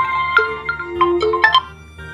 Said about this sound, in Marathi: अगं आला ग फोन माझ्या रेशमीचा